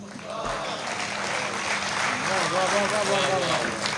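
Steady applause from an audience at a Hindi poetry recital, a continuous wash of many hands clapping that swells slightly toward the end, with a voice speaking over it.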